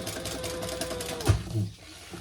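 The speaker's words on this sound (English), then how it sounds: "I'm just going to do a little chain stitching." A sewing machine runs briefly while chain stitching, a short close burst of quick needle chatter and motor hum ending with a thump and a soft clunk as it stops.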